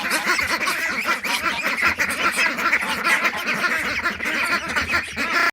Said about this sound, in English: We've got our teenage ducks out in the duck house. I'm gonna let them free.